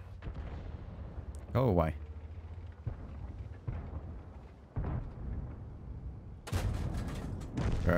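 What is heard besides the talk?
artillery fire in the video game World of Tanks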